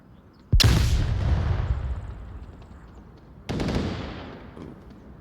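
Two loud gunshots ring out in the VR shooter Onward during a competitive match, each a sharp crack followed by a long echoing decay, the second arriving about three seconds after the first.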